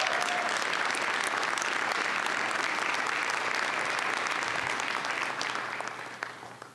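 Sustained applause from a large audience at a documentary screening and panel discussion, steady and full for several seconds before gradually tapering off at the end.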